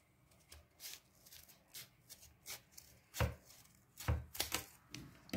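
Paper being snipped with scissors during an origami snowflake craft: a series of sharp, close cuts, sparse at first and then quicker in clusters toward the end.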